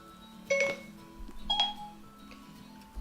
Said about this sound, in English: that was my phone by me saying Gabriel, thinking it was my Siri.